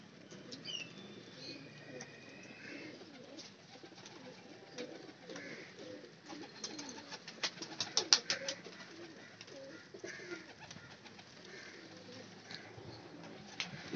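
Pigeons of the Royal Teddy breed coo softly and steadily, with bursts of wing flapping and rustling in a loft, the sound low and fairly distant.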